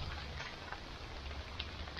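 Steady rain falls at a state park campsite, a continuous soft patter with scattered louder drops, close by and alone with no voices.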